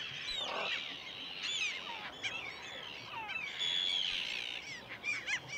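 A colony of Arctic terns calls on an Arctic archipelago island, a busy overlapping chorus of harsh, rasping cries and shrill chirps, some near and some farther off, with no voices.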